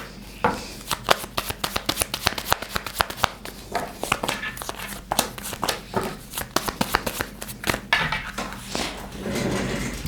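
Tarot cards are shuffled by hand close to the microphone, producing a dense run of crisp papery slaps and riffles in quick, uneven bursts over roughly ten seconds.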